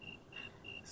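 A cricket chirps in three evenly spaced trills, thin and faint against quiet background noise.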